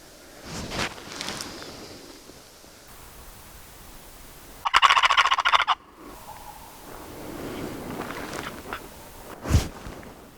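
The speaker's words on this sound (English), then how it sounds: "There's 2 gobblers." Wild turkey gobblers sound off in the big woods during a hunt: one loud, rattling gobble bursts out in the middle, with fainter, more distant calls and soft footsteps and rustling around it.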